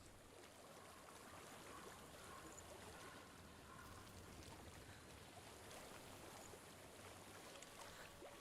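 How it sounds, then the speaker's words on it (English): Flowing stream water in the video game Hellblade: Senua's Sacrifice, a steady, quiet wash of running water with no breaks, and no talking. "I hear water."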